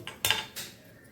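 A tawa pan set down on a gas stove, giving a couple of quick metallic clanks of metal on the burner grate, close and fairly sharp, with no talking.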